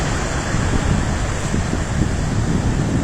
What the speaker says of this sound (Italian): Là in fondo guardate che onde